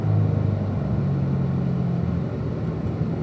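Steady, close rumble of a Corvette C7 Z51 engine on a racetrack, a continuous low drone that holds fairly even throughout.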